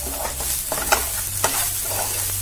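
Tomatoes being sautéed in a pan with a steady sizzle, while a spoon scrapes and stirs them at an irregular pace, close and fairly loud, with no talking.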